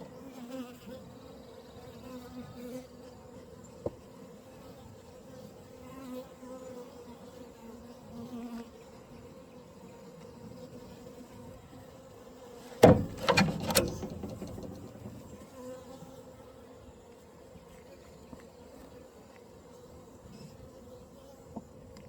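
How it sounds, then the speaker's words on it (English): Honey bees hum steadily around an open hive for the whole stretch, a soft continuous drone with a brief louder, closer burst of buzzing in the middle. "so I don't squash as many bees."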